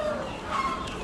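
A brief cluck rises from poultry at an Amish animal auction, where old hens and a big buff rooster sit caged, the short call set against a steady hum of background noise.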